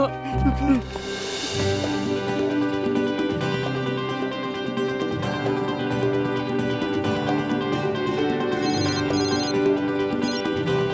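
A telephone rings in a Hindi film scene, its bell tones running steadily under a full music score and voices for about eleven seconds.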